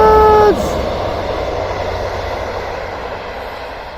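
A passing train near the River Derwent rumbles in a broad, steady roar, with a short high horn-like tone at the start before the noise carries on evenly.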